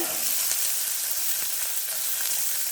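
Small onions and curry leaves sauté in hot oil in a pan while sambar is being made. A steady, loud sizzle continues throughout, with faint scrapes of stirring.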